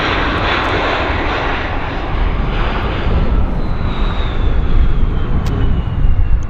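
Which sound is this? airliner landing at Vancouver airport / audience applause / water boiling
airliner landing at Vancouver airport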